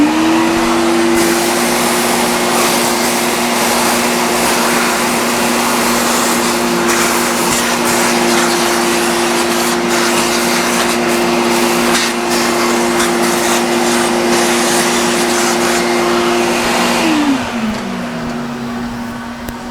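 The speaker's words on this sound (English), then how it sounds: "I'm going to vacuum up some of these chips back here" A vacuum cleaner sucking up metal cutting chips aboard a boat makes a loud, steady roaring whine that runs continuously before the motor switches off and winds down near the end.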